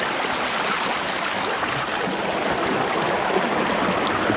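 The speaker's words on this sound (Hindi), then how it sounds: "ये पानी जो है ये मूव ये मतलब बह रहा है ये पानी।" Steady flowing water of the thermal pools at Pamukkale in Turkey, a continuous broadband rush that holds at an even level throughout, fairly close, with no talk over it.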